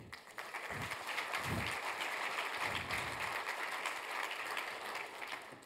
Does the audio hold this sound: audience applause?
yes